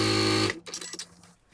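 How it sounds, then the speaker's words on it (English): A sewing machine whirs briefly while stitching zipper pouch fabric, then stops abruptly, followed by a few faint clicks and handling sounds. "And I'm going to stitch right along there."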